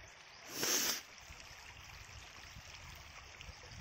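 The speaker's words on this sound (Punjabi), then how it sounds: "ਇਹ ਬਰਫ਼ ਤੋਂ ਖੁਰ ਖੁਰ ਕੇ ਪਾਣੀ" Meltwater from melting snow at Padri Pass in Jammu and Kashmir trickles in a faint, steady stream, with a brief louder gust or rustle early on and no talking.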